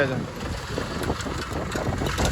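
A tractor engine runs with a loud, steady low rumble and faint knocking pulses, close by and continuous, while a voice talks over it.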